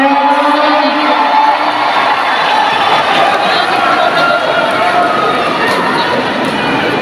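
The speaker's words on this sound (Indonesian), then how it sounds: "Beri tepuk tangan yang meriah dan teriakan yang gemuruh untuk SMA Negeri 3 Pekanbaru" A crowd applauds and cheers for an SMA Negeri 3 Pekanbaru school drum band at a drum band competition, a dense, loud, unbroken wash of clapping and shouting.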